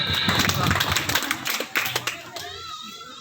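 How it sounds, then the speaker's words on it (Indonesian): Residents at a neighborhood meeting with a city council member clap in a brief, uneven burst of scattered hand claps, mixed with voices and chatter in the room. "Tepuk tangan."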